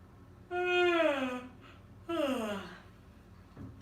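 A long, drawn-out yawn with a rising then falling vocal tone, followed by a second shorter yawn-like exhale, fairly close and clear.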